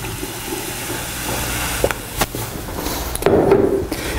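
Passion fruit peel sweet, a diet recipe, cooking in a pan and spattering with a continuous bubbling, watery hiss and a few sharper pops near the end.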